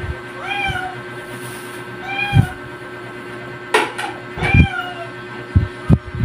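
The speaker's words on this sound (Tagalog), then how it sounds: "Hinihingi na ng mga pusa yung pagkain." Several hungry cats meowing close by in a kitchen, repeated rising meows in bursts, mixed with knocks and clatter of dishes or cupboards.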